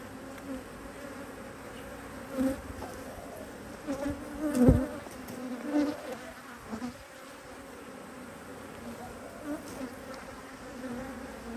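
Honeybees swarm around an opened, queenless hive during an early spring inspection. Their dense, continuous buzzing is close and steady, with a few louder passes as individual bees fly near.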